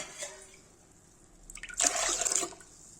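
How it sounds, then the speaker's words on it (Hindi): Water pours onto toor dal in a kitchen, a few faint drips and then a brief, close splashing pour lasting under a second before it trails off. "गाइस देखिए इसे पानी डालेंगे,"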